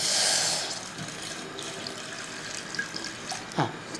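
Water runs from a tap into a pot to boil peppercorns for a sardine fish curry, a bright splashing rush at the start that fades to soft trickles and a few drips and clinks, close by with no talk.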